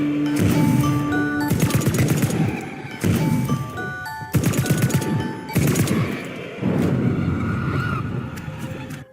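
Rapid automatic gunfire in Call of Duty Warzone/Vanguard shoots dolls in the Shi No Numa Easter egg. Loud, close bursts of shots repeat in several volleys, separated by short gaps, with game effects tones between them.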